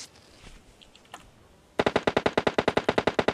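Automatic rifle fire in PUBG Mobile, a fast evenly spaced burst of loud, sharp shots after a quieter stretch with faint distant sounds, close and without talk.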